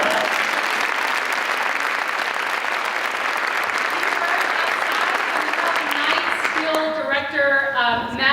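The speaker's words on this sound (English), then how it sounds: "so give him a big round of applause." An audience at a school district address gives a sustained round of dense applause that fades toward the end as a voice begins speaking over it.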